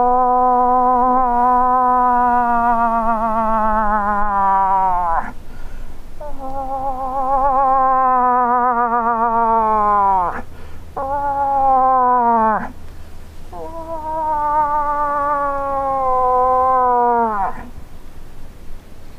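A moose call imitates a cow moose to attract a bull: four long, loud, nasal wailing calls that each slide downward and end in an abrupt drop, separated by short pauses, with an echo outdoors on a ridge.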